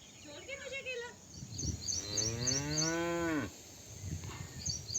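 A cow in a Himachal Pradesh village moos, calling after people leaving it; one long, loud, drawn-out moo in the middle, with fainter lowing and birds chirping around it outdoors.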